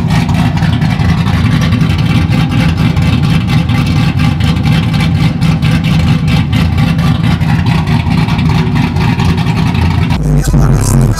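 A GMC Denali fitted with an American Muffler exhaust roars loudly and continuously close by, its deep engine note holding a sustained rev before cutting off abruptly near the end.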